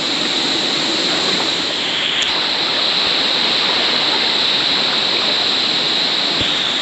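A jungle river on a Caribbean island rushes steadily and loudly nearby, a continuous broad roar of flowing water with no pauses.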